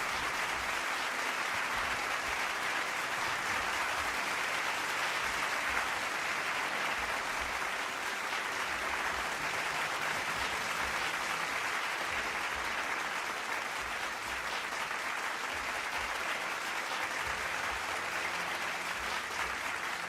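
Sustained applause from an audience at a World of Warships gaming event, a dense, even wash of clapping that holds steady at moderate loudness throughout with no talk.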